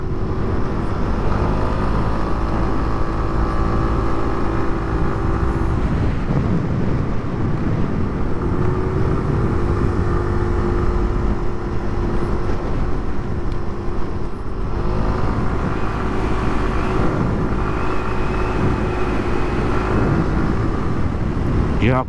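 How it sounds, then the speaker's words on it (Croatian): SYM Symphony ST200 200 cc scooter riding along roads in Sithonia, Greece, with a steady engine drone and wind noise at constant loudness throughout. "Jako lepo ide ovaj skuter, ovo je nevjerovatno"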